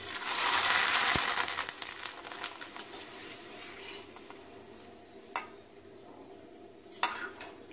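Loud burst of vadagam frying in hot oil that fades to a light crackle, with a few metallic clinks of a utensil against the pan.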